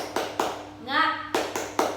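Sharp hand claps in a quick pattern by a teacher leading children in a classroom clap chant, pausing briefly for a short vocal sound before the clapping resumes in a steady beat.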